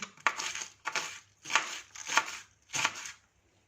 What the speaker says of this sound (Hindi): बंद गोभी पे इस तरह से कट्स लगा देंगे और इसे चॉप कर लेंगे।